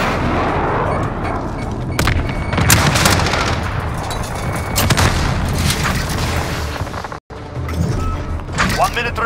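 White phosphorus strike explosions in a military video game, a dense run of booms and crackling blasts layered with gunfire, loud and continuous with one brief dropout, while voices talk over it.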